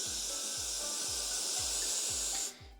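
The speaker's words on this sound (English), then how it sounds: "I'm gonna do some hairspray now, because the hairspray obviously sets a lot quicker than the glue" Hairspray hisses in one long, steady burst onto a drag wig ponytail, cutting off sharply near the end, with soft regular low thumps pulsing underneath.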